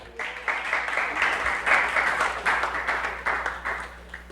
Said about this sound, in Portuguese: Vamos aplaudir ao Senhor, então.